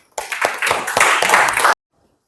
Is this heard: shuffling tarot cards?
no